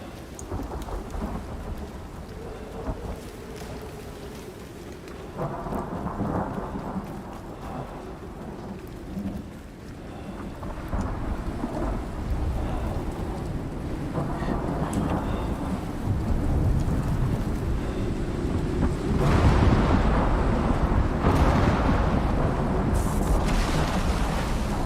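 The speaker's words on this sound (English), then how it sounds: "I was saying that the lightning storm's nearly past." Thunderstorm in the survival video game Icarus: steady heavy rain with deep rolling thunder that swells louder toward the end, continuous and close, with no voices.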